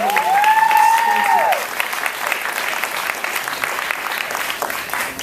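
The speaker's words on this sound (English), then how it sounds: "Double the applause, people." At the Windy City Times 30 Under 30 awards, a crowd claps loudly and continuously, with a short cheer or whoop riding over the start before the ovation settles into an even, sustained roar of hands.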